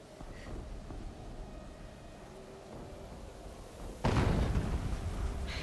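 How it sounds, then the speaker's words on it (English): A loud explosion in the video game Horizon Zero Dawn bursts in suddenly after a steady low ambient rumble, then keeps roaring heavily. "An explosion."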